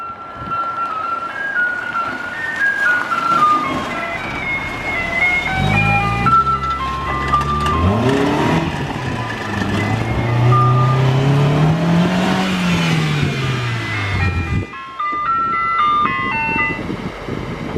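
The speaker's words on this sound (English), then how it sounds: "the Siren alarm PA system is fully installed" A loud electronic siren from a PA siren system installed in a Mazda Miata cycles through rising and falling tones with a melodic chime sequence, steady and close, with no voices.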